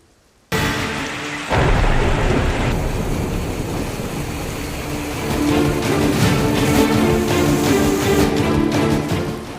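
Heavy rain pours steadily while thunder rumbles through a monsoon storm in Saurashtra, Gujarat, starting abruptly and building into a dense, loud, continuous roar.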